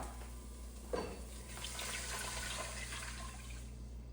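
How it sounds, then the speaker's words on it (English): Chicken broth and water pour steadily into a pot, a continuous splashing wash with a brief louder splash near the start. "Now it's time to add in our chicken broth and our water."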